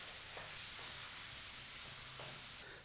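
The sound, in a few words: finely chopped onion frying in hot oil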